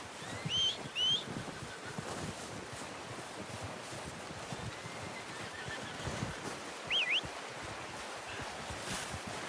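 A horse in the Red Dead Redemption 2 video game gives a couple of short whinnies near the start and another later, heard over a soft outdoor ambience.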